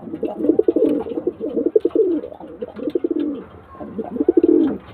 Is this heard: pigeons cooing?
yes